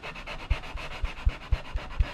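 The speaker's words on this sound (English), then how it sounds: "so I really need to sand that clean" A brass part sanded clean by hand, heard as a steady, rhythmic run of rasping strokes about four per second, close and fairly loud, with no talking.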